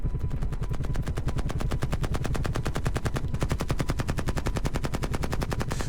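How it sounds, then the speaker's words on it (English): M60 machine gun fired by a door gunner from a helicopter in the 1968 Vietnam War, a rapid unbroken stream of shots, loud and close over a low rotor rumble. "sitting behind an M60 machine gun"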